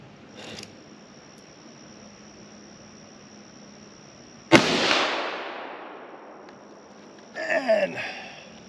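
A single sharp .223 rifle shot outdoors cracks loudly and rolls away in a long fading echo, followed about three seconds later by a brief metallic clatter from the struck steel plate.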